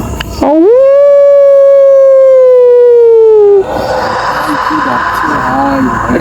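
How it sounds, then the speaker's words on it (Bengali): A jackal howls at night, one loud, sustained, wavering cry rising then slowly falling for about three seconds, followed by fainter distant howls and noisy background. "শিয়াল ডাকছে শিয়ালের আওয়াজ"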